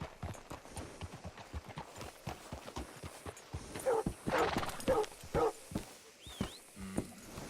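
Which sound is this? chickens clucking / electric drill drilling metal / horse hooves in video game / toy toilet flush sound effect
horse hooves in video game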